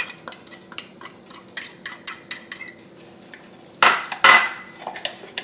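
Ingredients for a grinder salad get tossed in a bowl with a utensil, making a steady run of close scraping and clinking strokes, then two louder rattling swishes near the end, with no speech.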